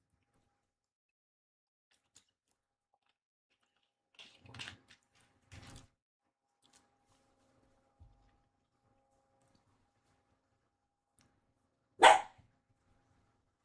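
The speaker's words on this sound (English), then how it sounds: "You don't need to be doing that barking." A dog gives a few scattered barks separated by long quiet gaps, with one sharp, louder bark near the end.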